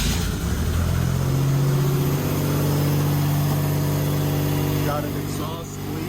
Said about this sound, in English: Got an exhaust leak coming from right here.